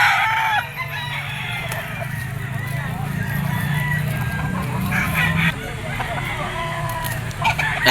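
Chickens, including a white-legged hen and stags, cluck and crow at a gamefowl market, layered over a steady crowd murmur with people talking throughout.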